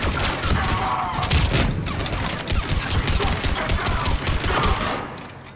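Continuous heavy gunfire in an action video game, a dense rattling fusillade of rapid shots and booms filling the whole stretch at loud, close level.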